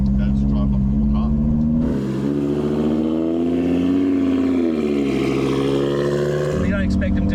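An Audi RS3 fitted with a bigger turbo cruising in comfort mode, its engine holding a steady drone that rises and falls slightly through light acceleration, with people talking in the cabin at the start and end.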